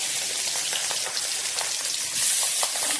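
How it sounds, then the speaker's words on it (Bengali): Pabda fish frying in hot oil gives a steady, close crackling sizzle with dense popping bursts throughout, no voices. "এখন পাবদা মাছটা ছেড়ে দিলাম"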